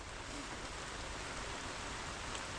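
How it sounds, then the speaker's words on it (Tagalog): Heavy rain pours steadily during a typhoon, a dense, continuous hiss of downpour close by with no letup and no voices. "Lumakas ang ulan."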